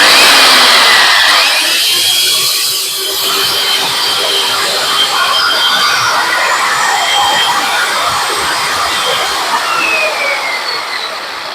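An IBELL electric chainsaw runs loud and close with a steady high whine that dips briefly early on, then holds without pause and with no voices over it.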